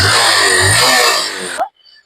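A used motorcycle at a used-bike seller in Gudivada runs steadily and loudly close by with an even, humming drone, then cuts off abruptly near the end, leaving near silence.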